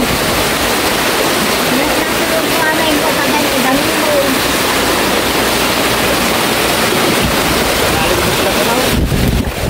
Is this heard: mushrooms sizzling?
no